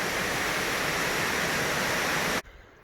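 Waterfalls along the Timpooneke Trail pour in a dense, steady hiss of rushing water, loud and unbroken, before cutting off abruptly to a quiet outdoor background.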